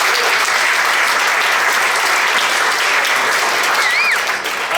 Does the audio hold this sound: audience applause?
yes